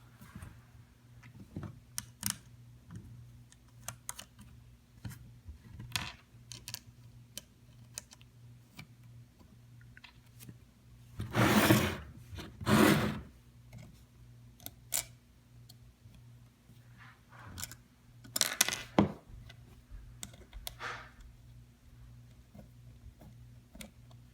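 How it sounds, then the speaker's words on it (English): Small nuts are hand-threaded onto the posts of a Pine 64 LCD enclosure by C4 Labs, giving sparse, faint ticks and clicks with a few louder rustling bursts over a low steady hum. "take these neat little nuts / screws and screw them onto these posts"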